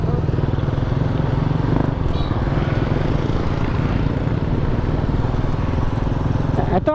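A motorcycle engine runs steadily nearby, a continuous low rumbling throb at constant level for several seconds, with a sharp clatter near the end.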